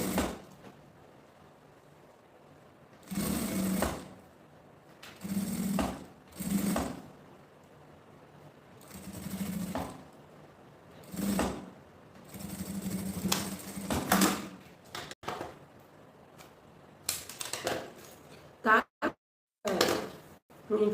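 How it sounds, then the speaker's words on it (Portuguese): A sewing machine fitted with a presser foot stitches bias binding around a small multipurpose organizer bag, running in several short bursts of whirring with brief pauses between them, fairly close. "vou aqui com um pé de máquina fazer a costurinha até chegar aqui do outro lado"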